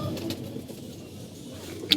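Caged pigeons coo softly and fairly close by in a short, low murmuring passage, ending with a brief sharp click or chirp.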